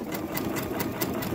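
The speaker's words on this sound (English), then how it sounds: "I'm gonna do this stitch and I'm gonna show you this machine works beautifully." A Brother Quattro 2 6700D sewing machine stitches a decorative pattern, a close, rapid mechanical chatter of needle strokes repeating about five times a second over a running motor hum.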